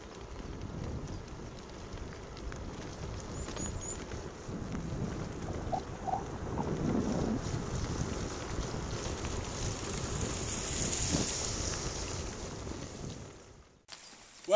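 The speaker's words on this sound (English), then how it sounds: "It's pouring rain." Heavy rain pours down on a mountain road in bad weather, a dense, steady roar that holds throughout with no talk and then cuts off abruptly at the very end.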